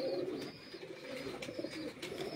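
Pigeons on a rooftop coo softly in low, repeated throaty calls, faint and close, with light fluttering clicks between them.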